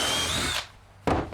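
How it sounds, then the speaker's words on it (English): A power drill bores angled holes through a pocket hole jig into wood for a truck camper tie-down repair: a loud high whine, a short pause, then a second burst. "it drills these little angled holes in there"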